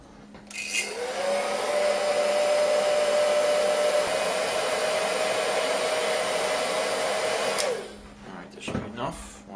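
An electric heat gun blows hot air onto a motorcycle main shaft bearing, a steady close whirring hum that switches on, runs evenly for about seven seconds and then cuts off, followed by faint handling noises.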